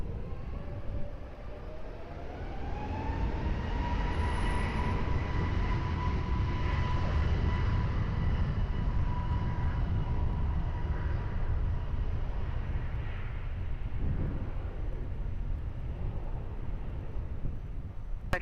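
A KLM airliner takes off from runway 20 at Lisbon Airport, its jet engines building to a loud, broad roar with a rising whine that holds steady for many seconds before slowly easing as it climbs away.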